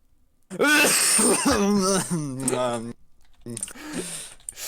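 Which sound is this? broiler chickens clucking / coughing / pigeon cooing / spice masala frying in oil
coughing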